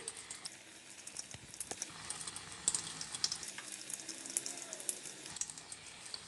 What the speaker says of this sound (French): je verse comme ça des petites boulettes et avec la cuillère, c'est plus pratique et plus facile.